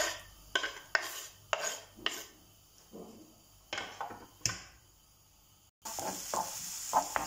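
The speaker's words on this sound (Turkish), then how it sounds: "Yemeklik olarak doğramış olduğum bir tane soğanı ilave ediyorum." Utensils clatter against a pan in short, uneven strokes, then chopped onion hits hot oil and sizzles loudly and steadily nearby.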